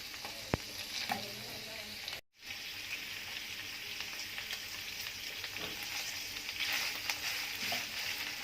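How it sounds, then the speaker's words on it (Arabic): Beef tripe frying in oil in a pan, a dense, loud hiss and crackle that fills the whole stretch, briefly cut off once before resuming with occasional stirring clinks. "هنحمر بقى الكرشه تحميره حلوه كده"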